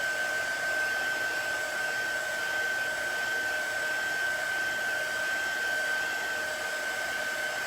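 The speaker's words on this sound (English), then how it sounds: "Some blow dryers, when you're trying to do something really quickly and you turn it way up, it's really, really loud." A blow dryer running steadily at close range, a constant airy roar with a thin high whine, unbroken and alone.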